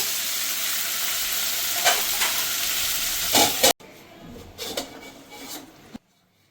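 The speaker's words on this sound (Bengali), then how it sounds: "ওটা তো ভালো করে আমি ভেন্ডিটাকে ভেজে নেব" Okra sizzles in a frying pan for a bhendi aloo masala, a bright steady hiss with occasional stirring clatters, cutting abruptly to a quieter sizzle and then silence.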